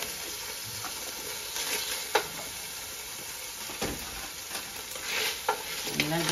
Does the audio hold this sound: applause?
no